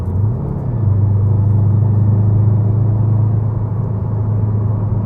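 A 2018 Subaru WRX STI corners through turns, its engine giving a steady, loud low drone and road rumble that holds evenly throughout, with no talk.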